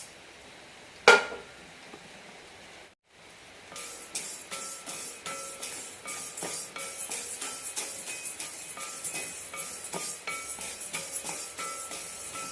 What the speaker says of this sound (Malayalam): മുതിര ആദ്യം വറുത്തെടുക്കാം